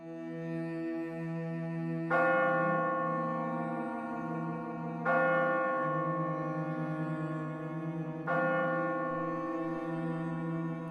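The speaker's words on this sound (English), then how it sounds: "A tolling bell in the dead of night, sending shivers up the spine of all who hear it." A deep bell tolls slowly in the dead of night, three heavy strikes spaced a few seconds apart, each ringing on with a long sustained hum and no voices.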